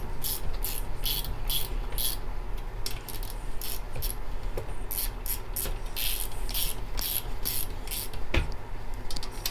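A ratchet snugging valve cover bolts on a small engine, quick bursts of close metallic clicking repeating in an uneven rhythm over a faint steady hum.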